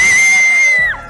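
People scream loudly and sustained in a studio show setting, one high shrill voice holding a steady pitch for about a second before it drops and trails off.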